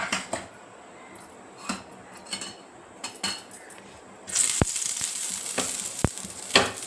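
Oil sizzles on a heated dosa griddle, a steady frying hiss that swells louder about midway and holds, with a few sharp metallic clicks from a utensil on the pan.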